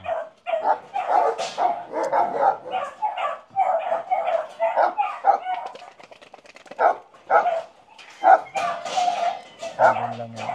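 Several excited, possessive Great Danes bark loudly and close by in rapid, overlapping bursts with short gaps, keeping up a continuous clamour with no talking.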